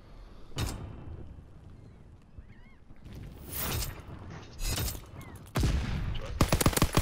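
Gunshots crack out in a World War II online team shooter, in scattered sharp bursts that grow denser and louder toward the end, with quieter game sounds between them.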